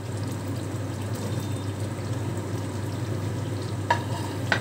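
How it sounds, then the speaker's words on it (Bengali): Cauliflower florets fry and get stirred in a kadai of spiced oil, giving a steady broadband sizzle with scraping stir sounds over a low hum, a few sharper clinks near the end. "কড়াতে মশলা থেকে তেল বেরিয়ে গেছে, এইবারেতে আমি দিয়ে দেব কপিগুলো।"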